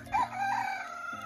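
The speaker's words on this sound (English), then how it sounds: "Oh, there was a chicken over there." A chicken on a homestead gives a short, fairly loud vocal call lasting about a second, heard alone with no talking.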